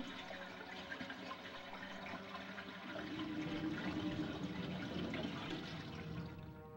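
Muddy water drains from an unplugged bathroom basin in the Resident Evil video game, a steady gurgling rush that swells midway and carries on, quiet and without talk.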